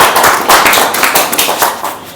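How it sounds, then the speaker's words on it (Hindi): A seminar audience in a hall in Sunder Nagar, Mandi, Himachal Pradesh breaks into loud, dense applause, many hands clapping continuously and close throughout, with no talk over it. "एक बार जोरदार तालियां सर के लिए भी मैं चाहूंगा।"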